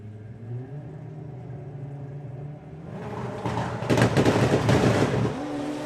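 Drag racing cars launching down the strip at a sportsman nationals meet, a low idle rumble swelling into a loud roaring burst of acceleration that peaks and then eases off.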